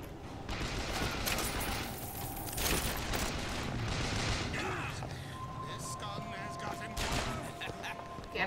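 Sustained gunfire and booms from a firefight in Bioshock Burial at Sea, loud and continuous across the whole stretch, with voices talking over the shooting.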